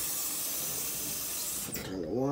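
Water running from a tap into a portable clothes washer, a steady loud rushing hiss that fills the clip and cuts off near the end as a voice speaks.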